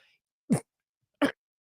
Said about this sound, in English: that cough snuck up on me